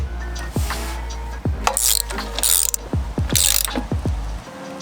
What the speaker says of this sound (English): So now we're ready to bolt these down.